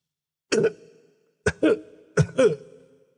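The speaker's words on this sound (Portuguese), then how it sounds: "o senhor Meierne soltou sua tosse seca e levantou-se." Three short, dry coughs, the last two each a quick double, separated by silence.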